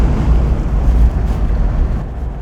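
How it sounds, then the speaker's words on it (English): A classic British car with an unleaded head conversion cruises in overdrive, its raspy exhaust giving a loud, continuous low rumble heard from inside the noisy cabin. "You want to hear that raspy exhaust"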